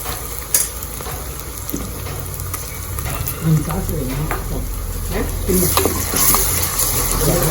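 Onions browned golden with ginger garlic paste frying in a pot for a one-pot tiffin-box biryani, a continuous close sizzle with scraping stirs and occasional pops.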